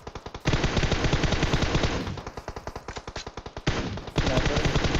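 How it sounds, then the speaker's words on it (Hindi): Rapid automatic gunfire aimed at a vehicle in PUBG Mobile, with loud sustained bursts of closely spaced shots and a short lull of softer, more distant fire before heavy shooting resumes. "फिर भी गोली चलाए जा रहे हैं गाड़ी पे"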